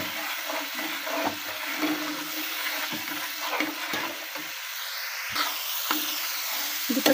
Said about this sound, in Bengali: বাটিটা ধুয়ে পানি দিয়ে দিচ্ছি।